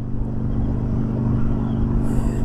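A Harley-Davidson Dyna Super Glide motorcycle pulls away on a roadside, its deep, steady engine rumble close and loud throughout, with a brief higher whine near the end.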